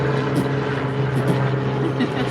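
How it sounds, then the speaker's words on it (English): A helicopter drones overhead near a cruise ship, the MSC Meraviglia, on embarkation day. Its steady, continuous rumble with a low hum persists under people talking. "Guys, there's a helicopter."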